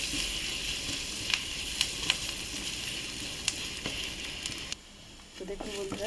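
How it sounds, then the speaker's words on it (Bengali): Chopped garlic frying in butter in a kitchen pan gives a steady, fairly quiet sizzle with occasional small pops and stirring scrapes, dipping briefly near the end. "রসুনটাকে বাটারে একটু ভেজে নেব।"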